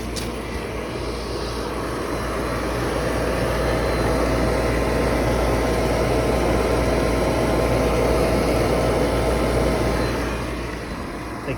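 Pool equipment motors run at a steady, continuous hum with a low mechanical drone throughout, close by and without speech.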